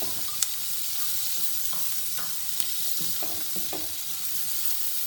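Garlic and tomatoes are sautéed on full flame for tomato soup, producing a constant close sizzle with occasional light stirring scrapes.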